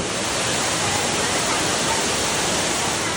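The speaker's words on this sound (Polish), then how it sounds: "Tu jest ukryty wodospad w środku." Hidden waterfall inside a cave in the Mexican jungle, a loud, unbroken roar of falling water that stays even and continuous from start to finish.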